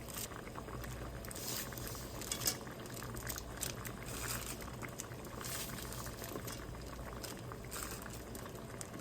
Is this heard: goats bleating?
no